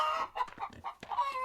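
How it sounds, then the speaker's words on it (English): A rooster in the Wild West Dynasty video game clucks in a quick run of short, close, clear calls, with no one talking over it. "All we're getting is roosters."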